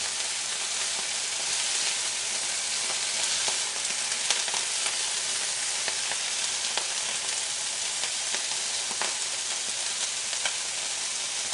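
Kale with garlic is sautéed and stirred in a hot pan, giving a steady loud sizzle with scattered crackles and pops as the greens are mixed through. No one speaks.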